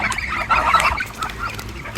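Geese honk in a brief loud burst of close, harsh calls that fades into softer, scattered honks.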